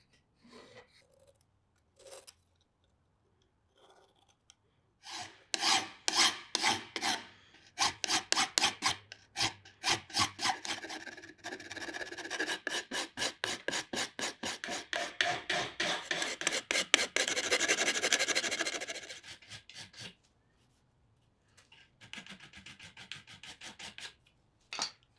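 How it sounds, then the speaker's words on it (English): A hand file rasps bevels into metal divider legs, repeated close, dry strokes in steady bursts with short pauses between them, no talking. "I'll add some shape to the legs by filing in some bevels."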